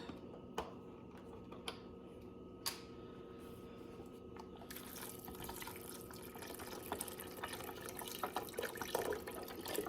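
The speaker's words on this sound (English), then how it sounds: "then we're going to go in and add in our chicken broth." Chicken broth poured into a soup pot after smashed beans for a creamy southwest chicken soup, a steady liquid rush that swells and continues, following a few sharp clicks.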